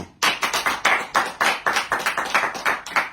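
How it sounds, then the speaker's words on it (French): A small group claps in a quick, even rhythm right after a New Year's greeting, about a dozen distinct sharp hand claps close by, with no talking. "Applaudissez pour vous."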